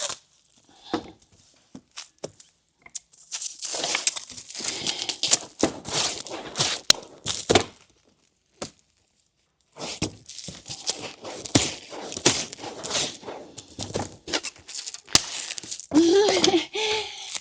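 Packing material is torn and crinkled by hand in repeated sharp rips while someone talks and moves around nearby, with a pause midway before more tearing.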